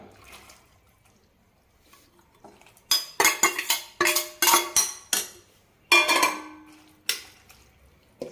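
Cooked beans dropped into a pan for Kerala thiruvathira puzhukku, giving a series of sharp clattering knocks and metallic scrapes with some wet splashing, close and distinct against a quiet background.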